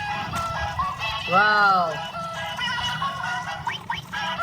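Toy chicken clucking and squawking in a bright, harmonic call over steady background noise, with a voice reacting nearby.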